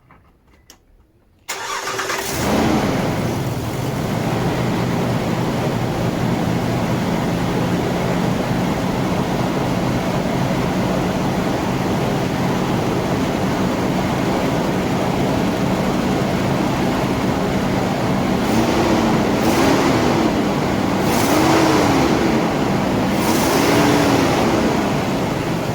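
A first-generation Nissan Xterra with its stock air intake cranks and fires up after a short quiet moment, then settles into a steady, loud idle with a low growl; the revs rise and fall briefly near the end.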